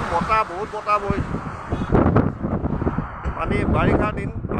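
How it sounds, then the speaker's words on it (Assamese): Strong wind gusts across the riverside at the Kanchanjangha floating restaurant at Bogibeel, Dibrugarh, buffeting the microphone with a rough, steady roar while people talk over it. "বতাহ বহুত বতাহ বইছে"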